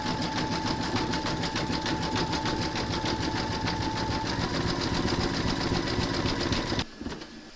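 A sewing machine running steadily for about seven seconds, zigzag-stitching the raw appliqué edges of a scarecrow's dungarees and belt in an embroidery hoop, with a loud, even, rapid mechanical rattle that stops abruptly near the end.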